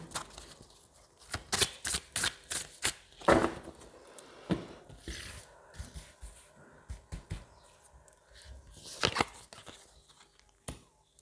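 Playing cards are shuffled and handled for a card reading, giving a run of quick papery riffles and flicks in uneven bursts, close and fairly quiet, with no talk.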